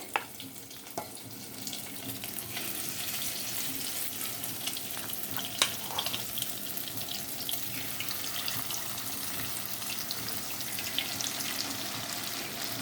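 Flattened chicken cheese kababs fry in oil, four to a batch, with a constant close hiss and a few sharp pops and clicks. Nobody speaks.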